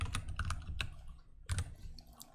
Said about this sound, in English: Sorry, I'm not used to my desktop keyboard.